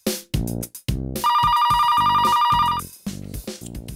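A telephone rings with a steady, loud electronic trill lasting over a second, set between bursts of music in a Hindi comedy episode.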